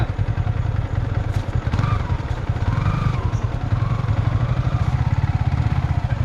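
A motorcycle ridden near the Pachaiyamman temple at Kappukadu, close to Gingee, gives a steady, close engine throb with a rapid regular pulse that runs unbroken throughout, plus faint rattling over it.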